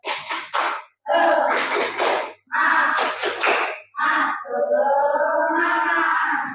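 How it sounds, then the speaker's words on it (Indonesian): Students in an Islamic religious education classroom perform the rhythmic 'tepuk semangat' spirit clap, with bursts of patterned clapping and unison group chanting, loud and close, separated by short pauses. "Coba tepuk semangat."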